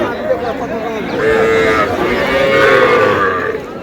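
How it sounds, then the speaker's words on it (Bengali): A cow moos loudly and at length at Ambari cattle market, a drawn-out low bellow rising and holding, close by, with no speech. "দেখান আমাদের গরু"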